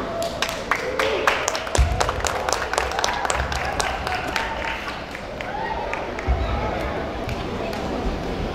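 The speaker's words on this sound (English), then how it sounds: "please welcome grade 4 Borneo students with a clap" School audience at a Grade 4 learning celebration claps to welcome students, a dense run of sharp handclaps with scattered voices and murmur beneath, steady throughout.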